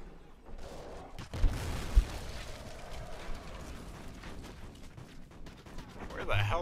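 Call of Duty Ghosts combat brings a couple of sharp gunshot cracks amid clattering mechanical rattles and a busy battle din, with voices talking underneath.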